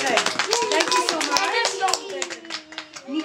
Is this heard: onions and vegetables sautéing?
no